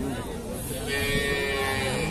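Cows and calves moo at a busy livestock market, a sustained low bovine call rising over crowd noise and background chatter, fairly close and loud.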